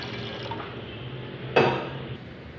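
A mug of water is tipped into a cooking pot for mung and masoor dal: a sudden splash that fades quickly into a quiet kitchen background.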